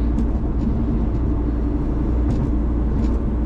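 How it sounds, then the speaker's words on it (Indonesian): Modified Ford Mustang EcoBoost, a non-V8 turbo four, giving a steady loud low rumble of engine and exhaust throughout, close by, with no voices. "Ford Mustang EcoBoost yang bukan V8 tapi dimodifikasi secara proper"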